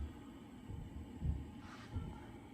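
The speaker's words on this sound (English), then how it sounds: "So this is the main issue, rough, idle, and smokes." An Audi S4 2.7 twin-turbo engine with a misfire and heavy smoke idles roughly, giving a low, uneven throb with a few heavier irregular thumps close by.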